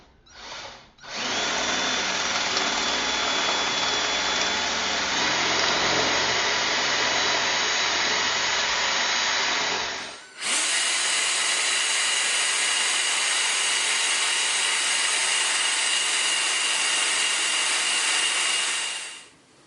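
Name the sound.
power drill drilling holes for Tapcon screws in toilet flange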